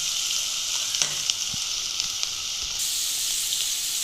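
Tomatoes sautéing in a pan for tomato chutney, a continuous bright sizzle throughout with a few light utensil taps and scrapes, close and steady, with no talking.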